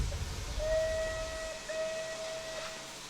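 A rebuilt Bulleid Light Pacific steam locomotive in Train Simulator 2021 sounds two clear, sustained whistle blasts in a row over a soft background hiss.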